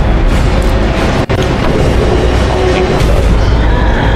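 Loud, heavy Boomshot explosions in Gears of War 3, a dense continuous roar of booming blasts that sits close and overwhelming, with a brief dropout near the start.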